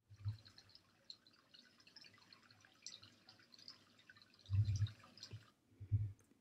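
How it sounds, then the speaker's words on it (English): Cartoon water drop sound effects laid over a rain animation in FlipaClip: three soft low plops, one near the start and two close together near the end, with a faint patter in between. "I'm going to make sure that the sound is lined up with our water drops, so I'm going to press play to see if it works."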